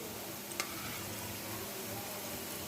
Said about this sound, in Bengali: পেঁয়াজ আদা রসুন আরও 1 মিনিট ভাজি করে নেব